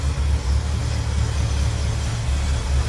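A 1960 Chevrolet C10 pickup with a 350 engine and Edelbrock carburetor pulls away, its low, steady engine rumble sitting close and continuous throughout with no talk.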